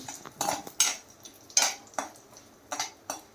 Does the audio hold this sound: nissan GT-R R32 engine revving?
no